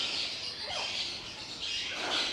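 A small bird calls loudly indoors among many birds, giving a couple of sharp squawking chirps over a constant bright hiss of background chatter.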